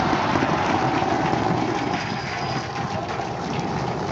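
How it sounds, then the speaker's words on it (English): SpaceX Starship Flight 7 Super Heavy booster firing 13 engines in its landing burn as it comes back to the launch tower for a catch: a steady, dense, broadband roar that holds unbroken throughout. "Booster landing burn. Seeing 13 engines."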